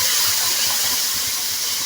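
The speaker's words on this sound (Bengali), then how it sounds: "এখানে আমি আমার যে মশলাটা গুলে রেখেছিলাম ওটা দিয়ে দিলাম" Spice paste hits partly fried onions in a hot pan, giving a steady, loud, broadband sizzle and hiss that carries evenly throughout with no talking.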